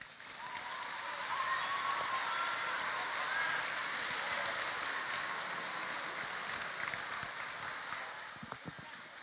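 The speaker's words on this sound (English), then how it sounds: "Please put your hands together to welcome him." A large crowd applauds steadily at an international festival gathering, a broad wash of clapping that swells and holds before thinning near the end.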